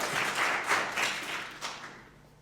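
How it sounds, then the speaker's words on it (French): A church congregation applauding, a dense wash of clapping that swells in a few waves and then fades away toward the end. "On a le droit d'applaudir, je pense que ça serait quand même bien."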